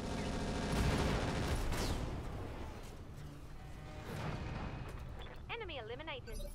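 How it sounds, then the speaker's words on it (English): Machine gun fire in the Roguetech video game, a dense rumbling barrage of shots mixed with explosive booms under game sounds, ending with warbling electronic tones, fairly loud and steady. "He hit you, so death by machine gun."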